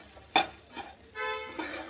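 Chicken and capsicum pieces fry in a pan for a chicken mughlai filling, with a sharp spatula scrape near the start followed by bursts of stirring and a soft steady sizzle, close and alone.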